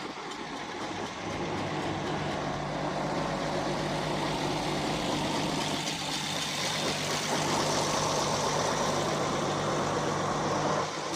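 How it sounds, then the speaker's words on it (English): An old Oliver Super 77 tractor engine idles steadily and loudly nearby, a constant low rumbling drone with no speech over it. "there's my old Super 77 all fired up, ready to go"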